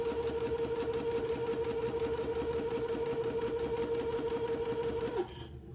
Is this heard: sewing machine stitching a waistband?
yes